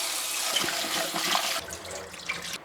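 Running tap water splashes steadily, with soft handling sounds as ambazhanga (hog plum) fruit is rinsed under the stream nearby.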